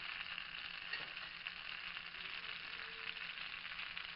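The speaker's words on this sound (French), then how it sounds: "Je les fais dorer d'un côté." Breaded cutlets browning in hot butter and oil give a faint, even sizzle and crackle that holds steady throughout, heard from close by with no talking.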